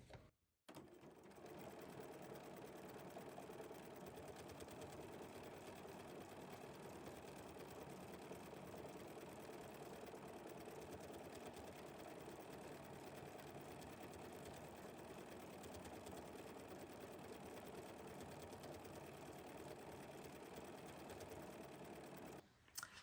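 A sewing machine runs steadily for about twenty seconds, stitching a combination pattern of triple-stitched decorative stitches on fabric, a continuous close mechanical whir with no talking.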